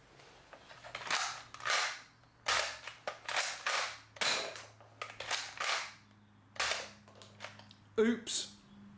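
A Nerf Maverick Rev-6 blaster loaded with cut-down foam darts fires in a series of sharp, close snaps, each followed by mechanical clicks and rattles, separated by short pauses.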